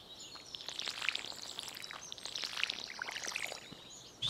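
A watering can pours water onto the ground in the farming game Stardew Valley: a steady, bright splashing trickle lasting several seconds, with light chirping ambience in the background and no talking.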